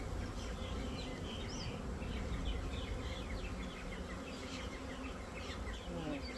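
Dense, continuous buzzing of many honey bees from a caught swarm close by, with individual bees whining past over the steady hum.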